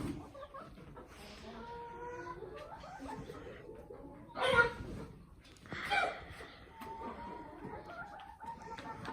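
Desi hens cluck and chatter steadily on a Punjab poultry farm, with two louder bursts of squawking partway through while someone speaks over the flock.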